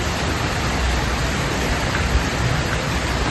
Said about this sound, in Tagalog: Maulan yung panahon ngayon